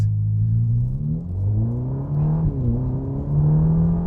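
A deep, rumbling 2024 Ferrari Roma engine revs up and down repeatedly, its harmonics rising and falling, heard from inside the cabin without speech.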